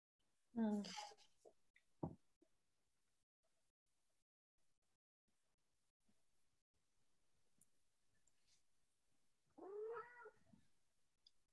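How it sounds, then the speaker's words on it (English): A cat meows a couple of times in a quiet indoor setting, short faint calls separated by a long near-silent pause, with a small click between them. "We have a kitty with us."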